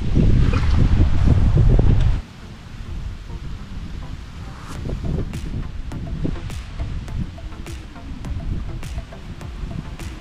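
Gusty wind sweeps across a farm field laid with plastic mulch. Heavy buffeting rumble is followed by lighter, steady blowing with scattered flaps and rustles.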